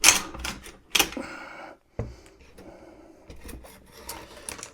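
The action of a Thunder Ranch BFT47 V2 rifle being racked, giving a few sharp metallic clacks and slides up close, followed by lighter mechanical rattling and handling noises.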